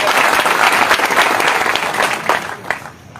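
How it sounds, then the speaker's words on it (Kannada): Crowd clapping at a farmers' protest meeting, a dense, loud burst of applause from many hands that carries on steadily and then thins out toward the end, with no speech over it. "ಇನ್ನೊಂದು ಚಪ್ಪಾಳೆ ಹೊಡಿ ಜೋರ್ಲಿ ಅವ್ರಿಗೆ"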